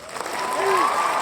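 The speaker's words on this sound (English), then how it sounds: "I got cheering." A short burst of canned crowd cheering and applause plays from a podcast soundboard, swelling over about a second with a rising whistle-like tone above it.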